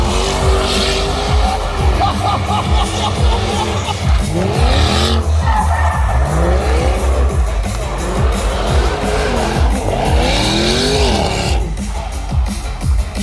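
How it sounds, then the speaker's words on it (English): Drag strip car with a 100 gram motor smoking its tyres at Santa Pod during Bug Jam 2022: a loud, sustained engine roar with repeated rising revs and tyre squeal, continuous and close throughout. "if you're going to have 100 gram motor, you might as well smoke the tyres"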